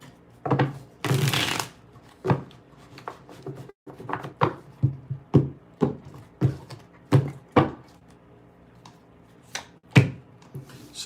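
Tarot cards shuffled by hand in a series of quick riffles and taps, with a longer brushing shuffle near the start and then roughly a dozen crisp close-up slaps and flutters at an irregular pace, no talking.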